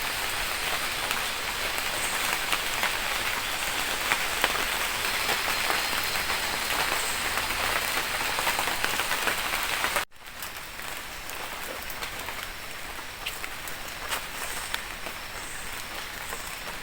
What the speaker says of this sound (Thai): เข้ามาอยู่ในป่าดิบชื้นเพื่อจะเอาบรรยากาศ ที่ฝนตกไปปลอยนิด ๆ มาให้ท่านผู้ชมได้ชมกันนะครับ